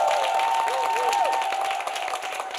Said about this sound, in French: Applaudissements pour vous-même, chers amis du public.